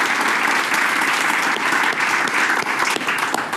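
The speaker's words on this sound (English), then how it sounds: "Why don't you give them a big round of applause" A studio audience claps steadily for the Days of Our Lives cast, a dense, loud, continuous burst of applause.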